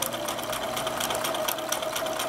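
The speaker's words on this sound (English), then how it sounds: "And now we're going to start to sew. And we're going to sew close to the fold all the way around." A sewing machine stitches a potholder close to the fold, giving a steady, rapid mechanical whir that carries on unbroken and alone, fairly close.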